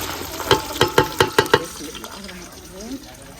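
Onions fry in hot ghee with tomatoes in a pan, with a soft sizzle under six quick, close knocks of a stirring spoon that then settle into quieter scraping.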